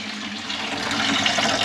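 Water sprays and splashes from a plumbing compression fitting during a guest house renovation, a continuous close hiss of running water that grows a little louder.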